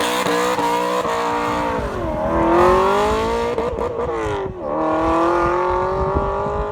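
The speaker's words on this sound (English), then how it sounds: "This week it's exhaust note perfection on V8 Vantage." An Aston Martin V8 Vantage revs hard, its exhaust note rising and falling through several throttle blips and a sustained climb, loud and close with no talk.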